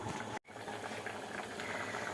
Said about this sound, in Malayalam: ശരിക്കും തിളച്ച് കയറി വരുന്നുണ്ട്